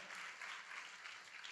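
A church congregation applauds its leaders, pastors and group supervisors, a faint, even wash of many hands clapping throughout.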